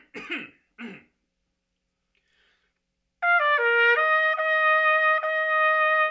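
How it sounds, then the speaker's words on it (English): Two short throat clearings close to the mic, then a pause, followed by a sustained musical tone with stepped pitch changes. "Distracting noises such as clearing your throat before you start."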